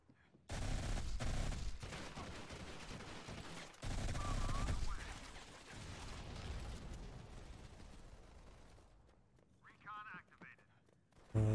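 Automatic weapon fire in the mobile shooter Modern Combat 5, loud rapid bursts of shots in two main volleys, then fading battle noise with brief game effects and some talking near the end.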